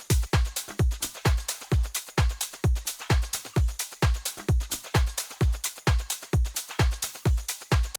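Layered hi-hat drum loop built with Serum noise layers and extra top percussion, with a dense steady run of crisp ticks and hissy hits over a thumping low kick pulse, loud and continuous with no voices.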